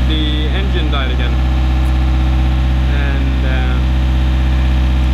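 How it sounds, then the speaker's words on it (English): A sailboat's engine, prone to dying with water-fouled fuel filters, drones steadily at a low, throbbing idle while cruising off Barbados, with someone talking over the constant rumble throughout. "As you can hear, there's quite a lot of motor sound"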